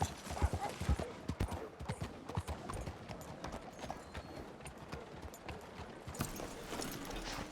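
Horse hooves gallop across open ground in Red Dead Redemption 2, the fast clip-clop steady and fairly close, mixed with rustling and game ambience at a modest level.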